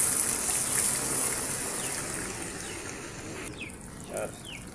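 A small splash of water pours into a pan while cooking a dish with shrimp paste and egg, a steady rushing trickle under faint background talk.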